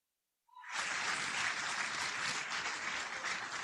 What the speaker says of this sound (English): Please give a big round of clap for each one of you.